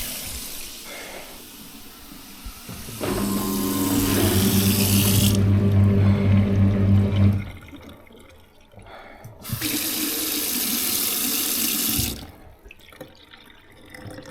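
Water gushes into an old cellar in two long, loud rushing spells, with quieter dripping and handling noises between and after them. No voices are heard.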